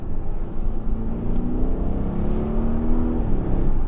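A 2020 Audi RSQ8 in manual mode drops a couple of gears and accelerates hard on soaking wet roads, its engine note climbing in a smooth rising drone heard from inside the cabin with no talk.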